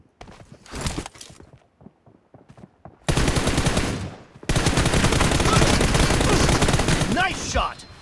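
Gunfire in a mobile shooter game: a few scattered shots, then long dense bursts of rapid automatic fire, loud and close, cutting off abruptly between volleys.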